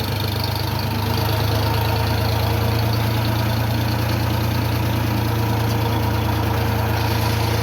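A Ford 3000 tractor engine runs at a steady idle, loud and close, with a continuous low rumbling throb from start to finish and no talking.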